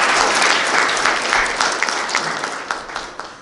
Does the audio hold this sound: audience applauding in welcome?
yes